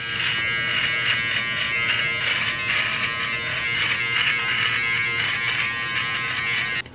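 A Philips Norelco Series 3000 MG3750/60 electric trimmer buzzes steadily at close range while trimming a beard. The loud hum pulses slightly as it moves through the hair, then cuts off at the end.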